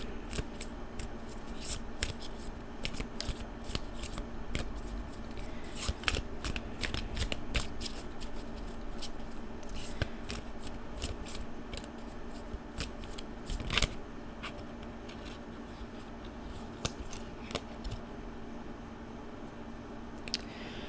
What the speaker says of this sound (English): I'm going to go ahead and pull a card from Lucy Cavendish's Dragon Magic Affirmation Message Deck